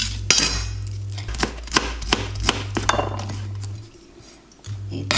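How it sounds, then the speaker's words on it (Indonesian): Knife slicing garlic on a cutting board, a series of crisp, evenly spaced taps and chops close by over a low steady hum, with no talking. "Jangan lupa ini bawang putih. Kita iris aja ya, atau digeprek juga bisa biar cepet."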